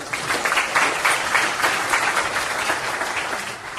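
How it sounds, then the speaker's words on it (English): An audience at a retail talk claps for Kristen and team, a steady moderate patter of hands that fades slightly at the end. "Let's give a round of applause for Kristen and team."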